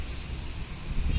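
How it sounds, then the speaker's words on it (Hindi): Strong gusty wind buffets a Delhi rooftop during kite fighting, a steady low roaring rush across the whole moment that swells louder toward the end, with no other clear sounds. "बहुत तेज हवा आ गई है।"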